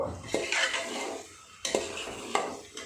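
Kabuli chana roasting in a pan over a high gas flame, with a spoon scraping and clinking against the metal at intervals over a steady low sizzle, close and moderately loud.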